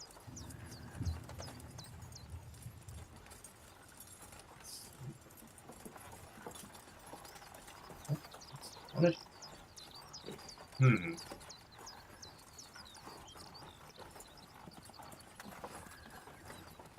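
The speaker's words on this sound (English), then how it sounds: "you can hear the horses and the tack and everything in our wagon" Horse hooves clip-clop steadily with jingling tack as horses pull a wagon, an ambient sound effect playing during a tabletop role-playing game session, with a few louder thumps and faint background voices.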